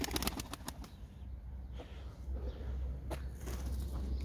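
Kırgın pigeons moving inside a coop, with a flurry of wing flaps and scratchy shuffling up close at the start, then quieter rustling and scattered soft thumps against a low, steady background hum.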